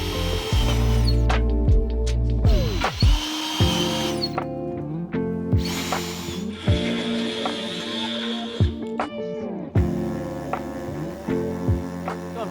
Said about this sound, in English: The easiest thing to do first is to drill some holes